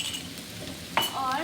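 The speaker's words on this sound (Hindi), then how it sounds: "अब हम इसको मिक्स करेंगे।" Chicken with mushrooms and sauce is stirred in a hot pan, giving a steady soft sizzle with a brief clink of the utensil against the pan near the end, close and moderately loud without speech.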